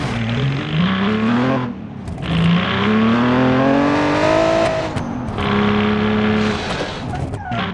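A revving V6 race car engine in a video game climbs through the gears, pitch rising then dropping at each shift, loud and continuous with faint tire noise.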